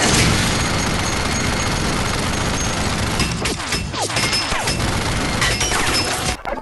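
Cartoonish explosions and gunfire come from a film in which a man fires shells from his knees, a dense roaring barrage with scattered blasts and crashes, loud and continuous, with no talking.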